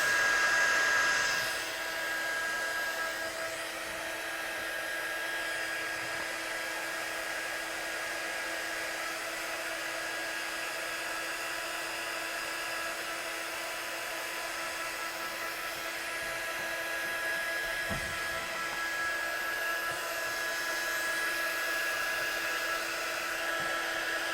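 A hair-dryer-style heat tool blows steadily over wet watercolour on paper. Its continuous whirring hum holds an even level the whole time, close and unbroken, with no talking.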